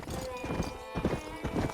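A horse's hooves clip-clop at a steady trot in the Red Dead Redemption video game, with a brief whinny and a voice urging the horse on over the hoofbeats.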